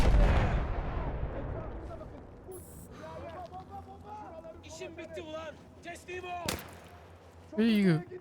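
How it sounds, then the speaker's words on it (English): Grenade explosions in a Battlefield 1 campaign battle, a heavy low blast opening the scene followed by rumbling combat noise, scattered impacts and a sharp burst near the end, with someone talking throughout. "Where are you throwing these grenades from, friend?"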